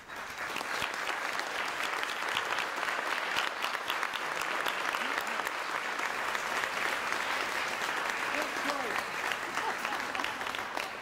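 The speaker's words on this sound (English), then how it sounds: "let us give you a round of applause" An audience at an awards ceremony applauds judges and experts with sustained, dense clapping that carries steadily throughout, with some murmuring voices mixed into the crowd.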